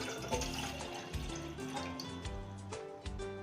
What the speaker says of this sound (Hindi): अब हमें एक पैन को ले लेना है और इसमें 1 गिलास पानी को डाल देना है।